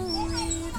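A dog whimpers and whines in a brief, close, continuous burst of tones over a rumbling outdoor background in a public garden where dogs are brought for jogging.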